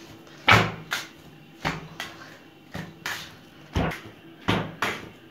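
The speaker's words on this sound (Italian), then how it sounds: "La prendete con la spatola e la sbattete." Sourdough starter dough being picked up with a spatula and slapped down, giving about nine loud, damp thuds at an uneven rhythm, close by and alone.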